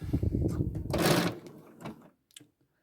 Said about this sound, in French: On va coudre la ceinture.